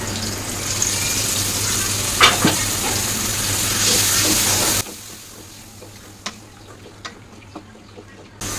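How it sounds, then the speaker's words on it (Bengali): Desi chicken with ginger, garlic, coriander, chili and turmeric powder sizzles loudly in a pot while being stirred, then the frying hiss cuts off abruptly, leaving a few faint clinks and scrapes. "আমি এখন দেশি মুরগি রান্না করতেছি।"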